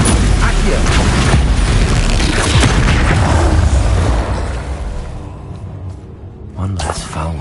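Loud booming blast from the Confringo fire spell in Hogwarts Legacy, a dense sustained roar that fades over several seconds, with a shouted voice over it.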